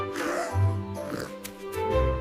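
A cartoon character's voice imitates a pig, giving a couple of nasal grunting oinks, close and fairly loud.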